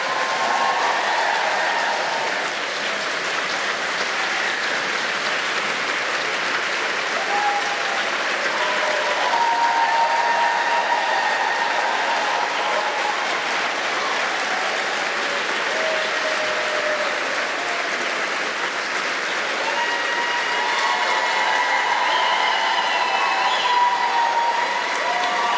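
A large audience at Sixth and I claps steadily to welcome Stacey Abrams and Tiffany Cross, a dense, sustained wash of applause lasting well over twenty seconds with little change in loudness.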